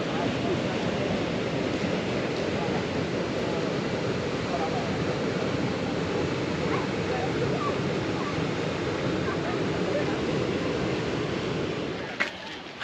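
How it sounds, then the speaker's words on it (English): Tower Falls in Yellowstone, a waterfall with a 132-foot drop, heard from an overlook as a steady, loud broadband roar that continues without pause. "Here we are at Tower Falls."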